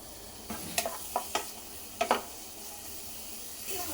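Chopped large onion with curry leaves frying in hot oil for a mutton bone curry, a soft steady sizzle broken by several sharp stirring scrapes and clatters of a spoon in the pan, close and without talk.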